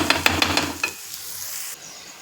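Peanuts stirred and roasted in a pan over low gas, a quick run of sharp scraping clatters followed by a soft, faint sizzle with no talking.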